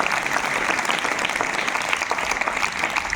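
Audience applause at a ceremony honouring a retired history lecturer, a dense steady clatter of many hands clapping, close and loud for the full few seconds with no talk over it.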